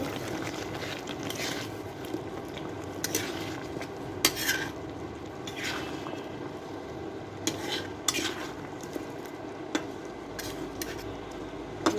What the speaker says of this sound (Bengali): এবার আস্তে করে নেড়ে চেড়ে নিব